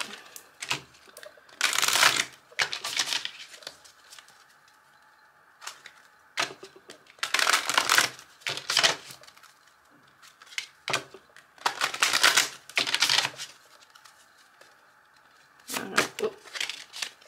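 Tarot cards being shuffled by hand, heard as bursts of papery riffling and slapping that come in irregular rounds with quiet pauses between them, close and clear, with no talk over them.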